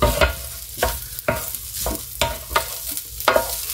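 Seasoned meat fries in a pan in a close, crackling sizzle, punctuated by regular scraping stirs roughly every half second.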